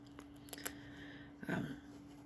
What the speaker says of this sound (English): I better take the scissors out or I'll wonder where they went.